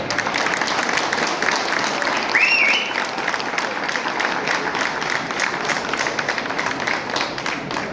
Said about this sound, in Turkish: bu nikah akdine şahitlik eden değerli insanlarımıza bir alkış rica ediyorum